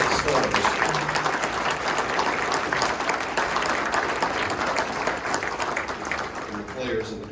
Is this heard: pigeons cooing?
no